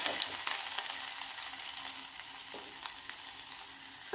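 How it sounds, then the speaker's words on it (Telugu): Chopped garlic and ginger with cumin fry in a pan with a steady, close sizzle and occasional stirring scrapes, with no talk. "తరిగి పెట్టుకున్న ఎల్లుల్లిపాయ ముక్కలు, ఆవాలు కాదండి అల్లం వేసుకొని ఇలా ఫ్రై చేసుకోవాలి."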